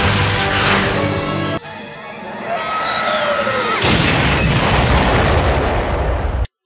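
Deep booming explosions meant as nuclear rain in a pony cartoon parody, a sustained roar with a sharp cut partway through, then a whistling, descending tone and renewed rumbling, loud and close throughout.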